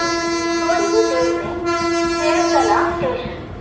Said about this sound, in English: Train number 16308 Cananore Alapay Express from Cananore to Alapay will arrive shortly on Cherdala station.